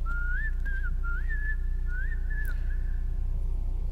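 A person whistles a short, cheerful, lilting tune in bright rising and falling phrases, clear and close over a low steady hum, with no talking.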